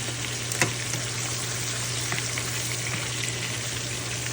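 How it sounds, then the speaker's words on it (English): Fish sizzling and frying in a pan on a kitchen stove, a steady close crackle of hot oil holding level throughout with a single sharper pop early on and no voices. "let us let those fish fry"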